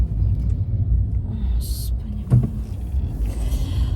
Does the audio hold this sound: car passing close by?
yes